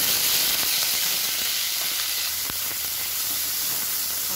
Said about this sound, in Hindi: अब मैं इसमें प्याज डाल रही हूँ।